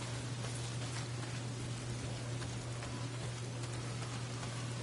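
Steady rain pours down in the video game Days Gone, a constant even hiss of falling drops with a low steady hum beneath, heard alone without talk.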